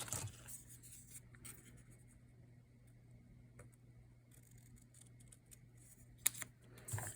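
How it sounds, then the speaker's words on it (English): Pencil marking a scrap piece of paper for trimming during a papercraft project, a faint soft scratching that runs steadily under a low hum and ends in a couple of sharper taps. "I'm going to mark it with a pencil to trim off the bottom"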